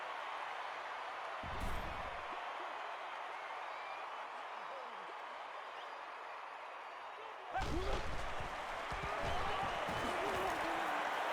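A stadium crowd roars in the video game Madden 11, a broad steady wash of cheering that swells after a catch, with sharp thuds and bursts cutting in partway through.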